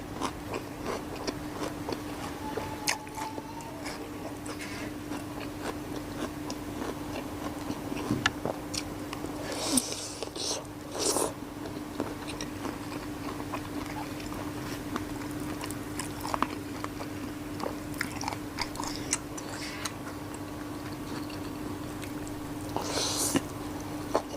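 Crunchy chewing of a mixed seafood papaya salad made with tiger prawns, shellfish and giant octopus tentacles: soft, irregular bites and crunches spread across a steady low hum, close to the mic, with no talking.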